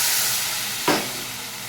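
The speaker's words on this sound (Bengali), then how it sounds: "মশলাটাকে বেশ ভালো করে কষিয়ে নেব।" Turmeric and chilli powder masala frying in a pan: a steady, soft sizzle runs throughout, with one brief, louder hissing burst near the middle before it settles back.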